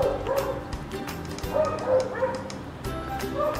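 A dog gives repeated short, yipping barks and whimpers amid busy indoor background noise, with some faint voices in the room.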